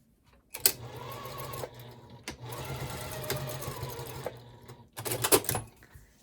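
A sewing machine back-stitching a bike basket bag, a close, steady motorized needle rattle running in three stretches separated by brief pauses, with no talk.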